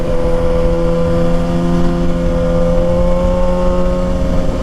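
A Kawasaki ZX6R motorcycle engine holds a steady, loud idle or cruise drone with a strong even hum and slight wavering, heard close and alone with no voices.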